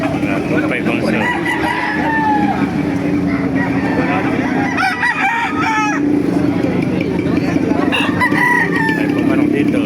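Roosters and chickens at a poultry market in Baliuag, Bulacan, with crowing and clucking scattered through steady crowd chatter and people talking nearby, plus a constant background hum.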